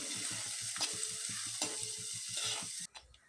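Chopped onion with garlic sautéing in a pan for a Kerala fried rice dish, a steady close sizzle with repeated rhythmic stirring scrapes, no talk, cutting out near the end.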